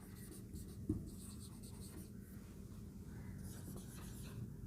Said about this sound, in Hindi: तो इसको लिखते हैं